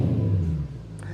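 A Jaguar XK8 V8 engine revving through an aftermarket exhaust: a deep, close, steady rumble that swells briefly and then eases back to a lower drone, with no talking.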